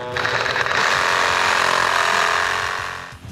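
Power saw cutting through a cardboard sonotube form around a freshly set concrete fire pit, a loud, steady grinding whine running continuously for about three seconds before easing off at the end.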